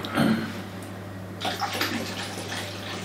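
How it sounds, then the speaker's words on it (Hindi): Hot water poured into a foot-soaking tub, a short splashy gush near the start followed by a softer, broken trickle and sloshing, quiet and close, with a low steady hum underneath. "अब 5 मिनट जब रखे हुए हो जाए तो इसमें थोड़ा सा गर्म पानी ऐड कर लें।"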